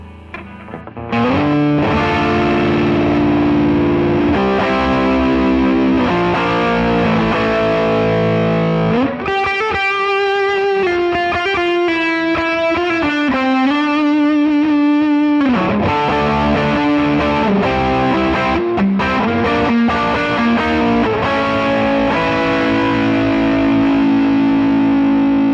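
Cranked electric guitar through a Browne Amplification Protein V3 overdrive pedal, played loud and continuous with thick distorted chords and sustained single-note lines, no voices.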